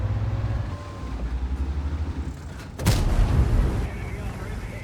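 A heavy boom from a tank cannon in World of Tanks, with the Chieftain T95 in play, bursts out midway over a low engine rumble and fades into rolling noise while a commentator talks throughout.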